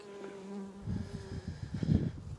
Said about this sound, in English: There's just bees everywhere here.